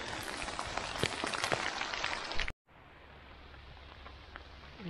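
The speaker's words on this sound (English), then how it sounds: "It's raining out here" Steady rain patters loudly on the ground and foliage at a primitive campsite in a state park, then cuts off briefly and returns as a softer, more distant hiss.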